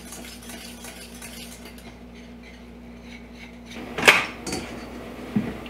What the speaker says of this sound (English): cook this, stirring constantly until it comes up to a boil